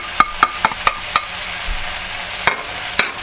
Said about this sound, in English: fry it about 5-10 minutes until there is no liquid at all